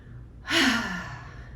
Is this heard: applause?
no